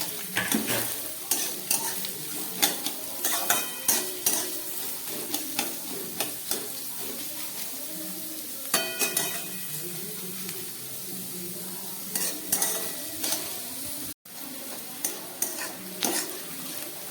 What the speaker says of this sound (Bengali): আদা, রসুন, পেঁয়াজ আর আলু খুব ভালো করে ভেজে নিলাম